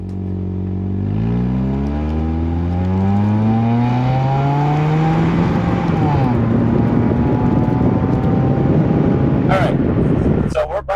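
A 2005 Hyundai Elantra, second generation, accelerating steadily from inside the cabin, its engine note rising through the gears with shifts along the way, a continuous loud drone that stays prominent throughout.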